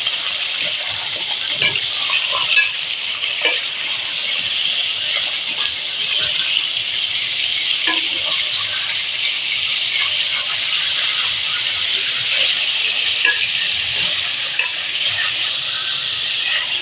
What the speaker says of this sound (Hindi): अम्मी जो है गोश्त को फ्राई कर रही हैं